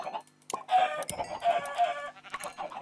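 Chickens in the video game Minecraft cluck in short, close bursts, a quick run of clucks over nearly three seconds mixed with sharp clicks and other game sounds.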